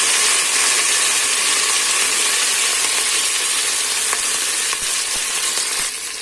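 Coriander, mint and curry leaves stirred in a sizzling frying pan with a ladle, a dense, close frying hiss with faint scraping clicks of the ladle against the pan, and no voices.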